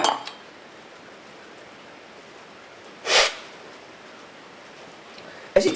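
A spoon clinks against a coffee cup in a single short bright ring midway, with another brief clink at the end, set against a quiet room.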